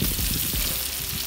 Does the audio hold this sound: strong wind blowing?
no